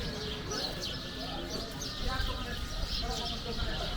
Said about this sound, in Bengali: পাখিদের এই কিচিরমিচির শব্দ নিজে থেকেই উপভোগ করতে পারো